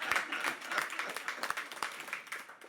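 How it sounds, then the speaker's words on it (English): An audience at a Southside Tallahassee Family Day 2021 announcement event claps briefly in scattered applause, fairly faint and distant and thinning out toward the end. "You may applaud."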